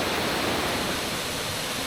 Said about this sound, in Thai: น้ำตกตรงนี้นะครับ ข้างล่างจะเป็นบ่อ แล้วก็น้ำตกอยู่ข้างบน